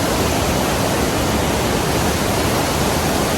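Fishery Falls waterfall in Queensland roars as a loud, steady broadband rush of falling water, close and continuous with no other sounds.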